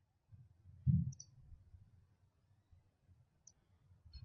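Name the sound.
computer mouse click on Save button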